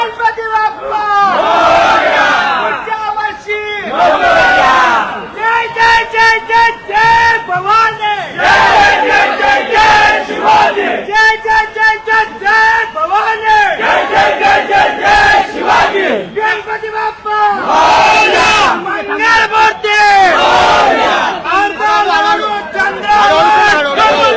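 A huge crowd of devotees roars and chants at a Ganesh immersion procession in Khandesh, with drums playing. Loud, continuous massed shouting and cheering in rhythmic waves fills the scene.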